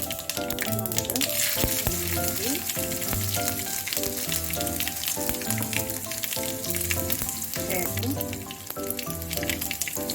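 Mustard seeds crackle in hot oil for puli inji, a dense, continuous sizzle with rapid pops that stays loud and close throughout, with a repeating musical tone underneath.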